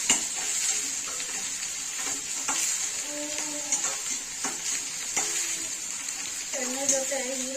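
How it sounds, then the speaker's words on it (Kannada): Chopped onions frying in oil in a pan for a bottle gourd dish, a steady close sizzle with intermittent stirring scrapes, while a voice speaks over it. "ಸಣ್ಣ ಕಟ್ ಮಾಡ್ಕೊಂಡು ಈರುಳ್ಳಿ ಹಾಕೊಂಡ್ರೆ ಎಣ್ಣೆ ಜೊತೆ ಇದನ್ನು ಚೆನ್ನಾಗಿ ಫ್ರೈ ಮಾಡಿ"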